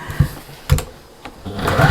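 A sewing machine stitches two layers of bias tape on a fabric storage caddy in short bursts, with brief whirring runs separated by pauses and a longer steady run toward the end, close up.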